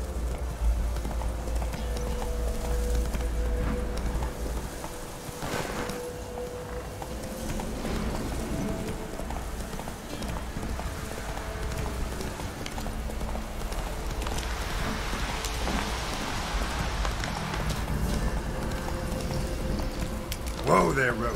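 Roach the horse galloping in The Witcher 3, with steady, rhythmic hooves clopping throughout over a soft ambient wash and voices heard now and then.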